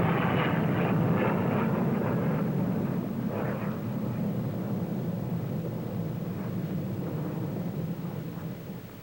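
A huge Victor bomber flies past at the Farnborough air show, its deep, steady jet roar filling the air and fading slightly toward the end, with no voices.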